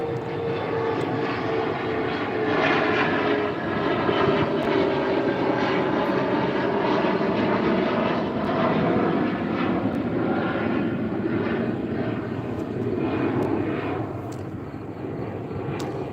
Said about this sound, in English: I'll let this plane pass and then I'm going to continue.